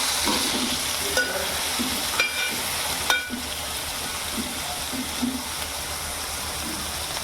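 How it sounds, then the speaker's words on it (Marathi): Onion, tomato and ginger-garlic paste sizzle in a pan for a Maharashtrian bean dish, a constant frying hiss broken by a few sharp stirring scrapes and clinks. "कांदा टाकायचा हा टॉमॅटो टाकला आणि अद्रक लसणाची पेस्ट टाकली आणि आता चांगला शिजून घ्यायचा"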